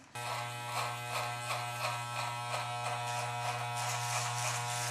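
Electric beard clippers buzz steadily and close up while trimming a beard neckline, a continuous motor hum with slight rhythmic pulsing as the blade passes, running alone throughout.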